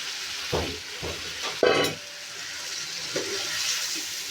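A spoon scrapes and stirs food in a frying pan on a village kitchen stove, with a few distinct clinks and scrapes over a soft background sizzle. One knock is louder than the rest.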